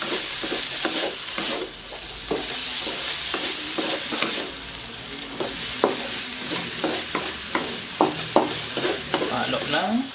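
Lechon sisig stirred in a frying pan, with a loud continuous sizzle under rhythmic scraping and tapping of a spatula against the pan, close up and without voices.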